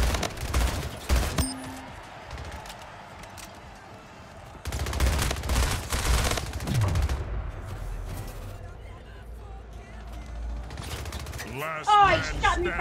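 Rapid bursts of gunfire from the video game Splitgate, loud clusters of shots separated by quieter stretches, with game effects and a player talking over the action.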